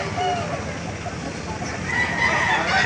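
A red, eight-month-old rooster at a Baliuag market crows loudly nearby over a busy background, with some clucking around it.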